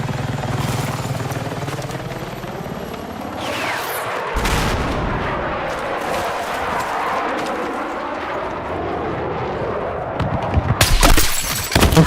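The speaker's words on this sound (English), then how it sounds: "I'm firing at him, but no success." Gunfire crackles in a tactical shooter video game, with bursts of shots layered over a steady loud din of engine and battle noise that swells toward the end.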